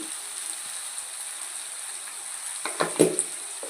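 Onions frying in a pan with turmeric for a dried prawn curry give a soft, steady sizzle, with a few sharper utensil scrapes and clatters near the end.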